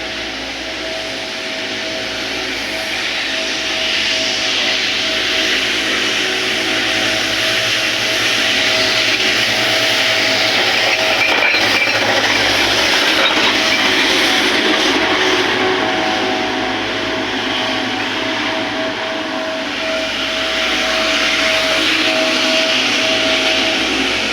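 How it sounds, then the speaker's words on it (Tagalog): A street-cleaning blower runs continuously, a loud, steady whooshing motor roar that swells slightly and holds for the entire stretch, with no talking over it. "Kasi may blower kasi yan eh."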